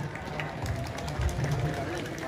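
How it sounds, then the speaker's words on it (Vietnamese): Applause at a longevity celebration for a Buddhist monk at a pagoda in Tinh Bien, An Giang: a steady wash of crowd clapping that holds at an even level throughout, over a low rumbling hum. "xin cho một tràng pháo tay"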